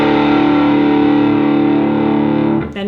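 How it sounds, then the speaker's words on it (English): A single heavily distorted electric guitar power chord rings out loud and sustained, then cuts off with a quick pull-off to the open string at the end. "you're going to strum it and do a pull-off to the open"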